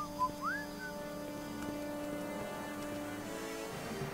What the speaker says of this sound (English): Nice whistling there, I guess Marty.